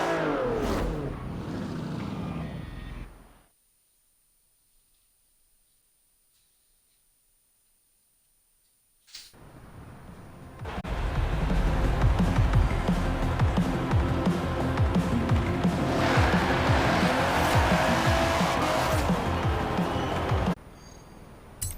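BMW 850CSi driving in Forza Horizon 4, its engine building to a loud steady drone after a brief run, a stretch of near silence, then a strong sustained pull with rising revs.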